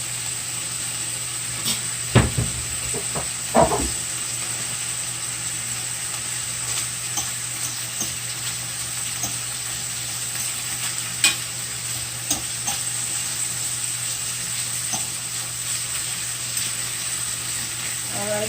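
Sausages for a seafood boil cook in a pot, giving a soft steady sizzle and hiss under a constant kitchen hum, with a couple of brief knocks early on.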